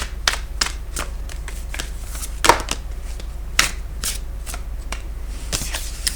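Tarot cards are shuffled and drawn by hand, giving a series of sharp, crisp riffles and snaps at irregular intervals, close and clear against a low steady hum.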